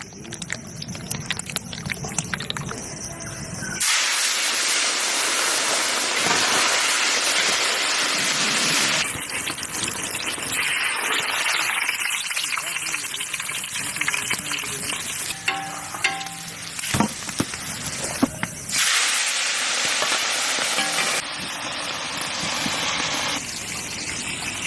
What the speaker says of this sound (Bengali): এখন মাছ ভাজবো